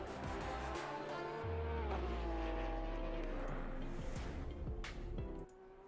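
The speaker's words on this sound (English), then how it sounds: "You can listen to the nice sounds of engines going around this track." Race car engines at the Kyalami circuit in the Assetto Corsa Competizione racing game, a continuous droning engine tone with shifting pitch that rises and falls, then drops away near the end.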